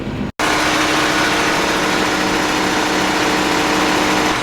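Vehicle engine pulling a planter out of a shed, running loud and steady at close range, with a brief dropout near the start.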